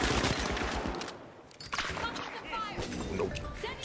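Sniper gunfire in a video game, a few sharp cracks scattered among noisy battle sounds, heard under someone talking.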